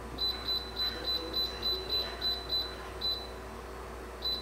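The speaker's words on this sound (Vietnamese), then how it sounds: "Giờ em sẽ bỏ vô nồi chiên không dầu nha." An air fryer's control panel beeps as it is set to 130 degrees for roasting shrimp shells, giving a quick run of about a dozen short, high electronic beeps in close pairs over a low steady hum, with no talking.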